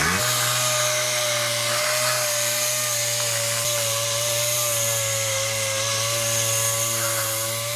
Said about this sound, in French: Toute façon simple de faire un trait net, petite ponceuse.